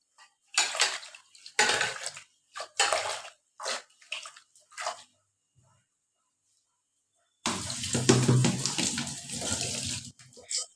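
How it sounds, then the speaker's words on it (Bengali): Drumstick leaves are washed under running water, a close, steady gush and splash that comes in after a stretch of short, scattered clatters and pauses. "পাতাগুলো এখন ধুয়ে একটুখানি ছাড়িয়ে নেব"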